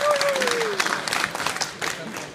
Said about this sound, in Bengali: হাততালি, জুড়ে একটা হাততালি আমি আশা করছি।